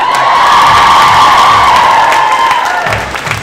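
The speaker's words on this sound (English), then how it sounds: "Come on, give me a cheer." Audience at an egg roulette game show event erupting in loud, sustained cheering and whooping, close and energetic, tapering off after about three seconds.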